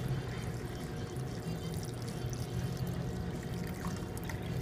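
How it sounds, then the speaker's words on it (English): Water and stock pouring into a pot over a piece of corned beef, a steady continuous splashing stream at close range, with no talk. "then we're going to add the water and a little bit of stock to that"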